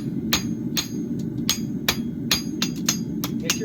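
A blacksmith's hammer strikes a bar on an anvil while forging a scarf, about ten sharp ringing blows at a steady, slightly uneven rhythm, close and loud over a low roar of the forge.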